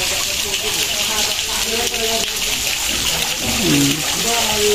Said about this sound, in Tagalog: May pa-fountain sa Uncle dito.